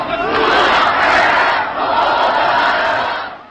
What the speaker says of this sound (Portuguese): Mas tem um vídeo que esse é real, que o Lula foi vaiado no Nordeste.